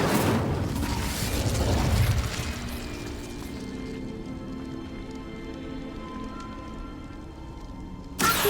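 Incendio fire spell cast in the Hogwarts Legacy video game: a loud booming burst of flame opening the clip, fading into a lingering crackling, mechanical rumble with a second sharp burst at the end.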